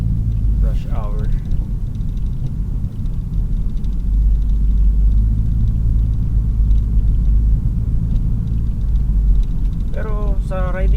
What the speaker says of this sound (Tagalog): Traffic din yan guys, so daming dumadaan dahil rush hour.